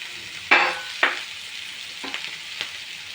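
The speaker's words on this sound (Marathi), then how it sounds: "थोडं परतून घेऊया" Spiced rice being sautéed in a pan for Maharashtrian masale bhat, with a couple of sharp sizzling bursts as ingredients hit the hot pan, then softer intermittent stirring and frying crackle, close and moderately loud, no talking.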